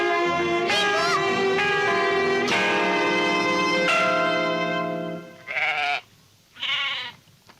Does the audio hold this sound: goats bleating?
yes